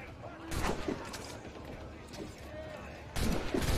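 Naval cannon fire from a sailing ship in Assassin's Creed IV Black Flag, two heavy blasts spaced a few seconds apart amid sea-battle din, with a voice speaking in between.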